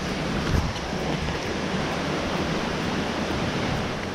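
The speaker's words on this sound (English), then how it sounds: "the stream and the waterfall going in the background" A steady, broad rush of running water fills the scene from a stream and a waterfall nearby on the Appalachian Trail. It is loud and constant, with no voices.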